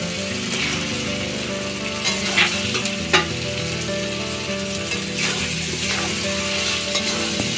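Potatoes frying in hot spiced oil for a soybean curry, a dense steady sizzle with scraping stirs and occasional clatter of the utensil against the pan, close and continuous with no voices.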